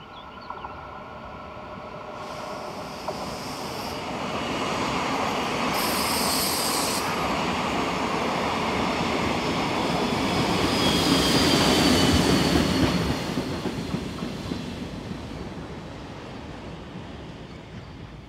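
Electric locomotive 1142-587 rolls into Obertraun station at the end of its run, a broad rumble of wheels and carriages building and swelling in the middle, with high squealing wheel tones, before easing off again.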